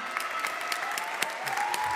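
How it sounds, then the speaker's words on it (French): An audience applauds Philippe at the Trophée Haeberlin 2021 prize-giving, with a brief spell of moderate clapping carrying distinct individual claps. "On peut l'applaudir. Bravo."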